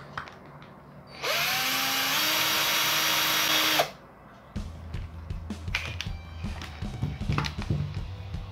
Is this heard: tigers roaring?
no